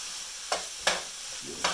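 Hamburger meat fries in a pan under a constant hiss, and three distinct stirring scrapes cut in at irregular intervals close up.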